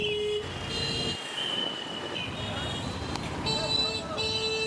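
A train at Kamalapur railway station, a busy station in Dhaka, with rumbling wheels, faint squeals and a horn-like tone, and people talking in the background.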